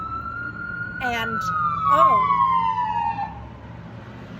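A fire truck siren wails past near a hospital, its tone sliding steadily downward as it passes close by, with people talking over it partway through.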